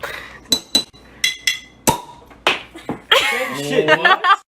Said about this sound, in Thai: แค่เคาะสี่ทีครับ ข้างบนสองดองดองข้างล่างสองดองดองแล้วก็ป๊อก